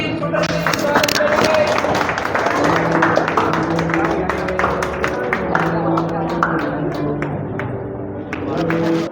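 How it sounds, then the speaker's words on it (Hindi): An audience at a ceremony honouring a shooting medallist breaks into sustained applause, a dense patter of many hands clapping, with a voice and tonal sounds running beneath. "सभी जोर से तालियां बजाएं।"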